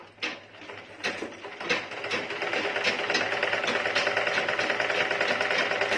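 A treadle sewing machine started up and pedaled: a few separate mechanical clacks at first, then a steady, loud, rapid whirring and ticking run of the mechanism, close by and without talk.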